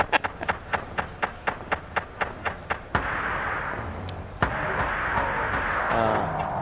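A radio jingle played back at roughly a tenth of normal speed, starting as a slow series of evenly spaced low thumps, then turning into a dragged-out, muffled rumbling smear of sound.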